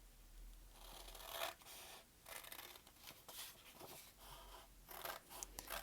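Scissors snipping through paper strips for a caterpillar craft, soft close crunching cuts in a steady series of strokes, quiet and uninterrupted by speech.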